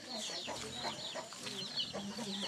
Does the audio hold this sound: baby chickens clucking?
yes